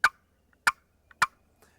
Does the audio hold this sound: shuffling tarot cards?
no